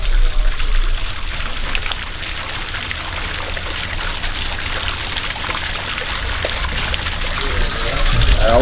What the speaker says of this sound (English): Got the waterfall going.